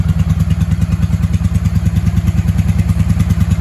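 A 1995 Honda Shadow VLX 600 (VT600CD) V-twin motorcycle engine running steadily at a fast idle, loud and close, with an even throbbing beat throughout.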